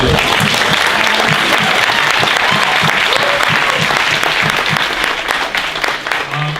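Loud, sustained applause from a crowd at an interfaith iftar event, steady clapping filling the whole stretch and easing slightly at the end.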